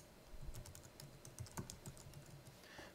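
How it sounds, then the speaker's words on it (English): Fingers typing a name on a computer keyboard, a quick irregular run of close, light key clicks with short pauses, no voices. "I'm going to type in my name."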